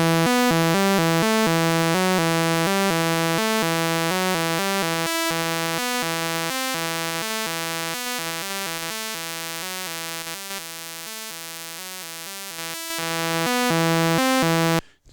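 An Atari ST synth plays a buzzy, non-repeating waveform as a steady, loud sequence of stepped notes that shift in pitch and thin out toward the end.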